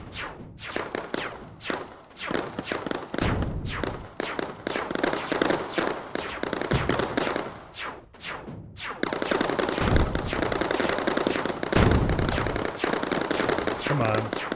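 Anti-aircraft flak guns firing in a video game, rapid loud bursts of gunfire in long rattling volleys that run almost continuously, with talk audible over them.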